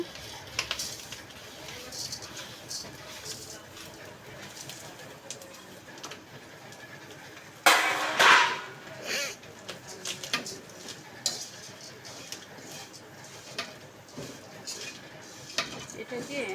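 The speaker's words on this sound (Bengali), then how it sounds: "এখন আমি চিরাগুলো ঢেলে দিচ্ছি" Flattened rice (chira) poured into a pan over low heat, a sudden bright rattling rush of grains hitting metal midway, amid quieter kitchen clatter, occasional speech and birds cooing in the background.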